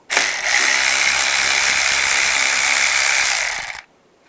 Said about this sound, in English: Use a 10mm socket, take these bolts out.